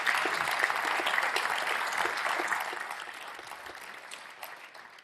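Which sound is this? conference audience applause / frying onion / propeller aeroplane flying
conference audience applause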